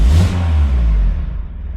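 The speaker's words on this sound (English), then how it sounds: "Very blowy exhaust." A Peugeot 205 GTI 1.6 engine with a blowing exhaust revs loudly and close by, a brief steady engine roar that fades slightly toward the end, with no talking.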